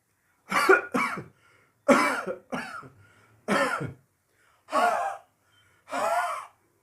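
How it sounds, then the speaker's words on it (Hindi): A person coughs deliberately and forcefully from the belly in six short, deep bursts with brief pauses between them, close up and without speech. "तो उसमें कैसे खांसते हैं, देखिए।"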